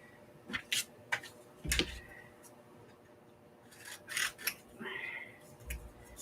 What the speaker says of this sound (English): I've been saving them, so we're going to cut those off before we take that off.